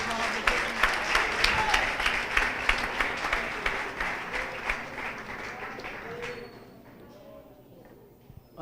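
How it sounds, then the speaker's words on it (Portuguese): A church congregation at a Thursday service claps for the Lord, rhythmic crowd applause with distinct beats that gradually thins and fades into near quiet. "Aplauda o Senhor em nome de Jesus."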